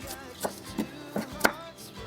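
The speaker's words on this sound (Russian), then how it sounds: "Режу немного петрушки." A knife chopping fresh parsley on a cutting board, a few separate soft knocks spaced irregularly, close and quiet with no talking.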